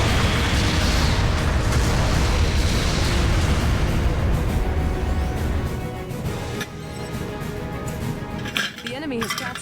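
A mobile suit explodes in Gundam Battle Operation 2: a loud, dense roar of blasts and metallic clatter runs for several seconds, then thins into scattered clinks and debris.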